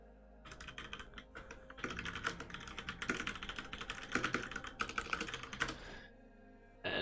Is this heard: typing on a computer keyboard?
yes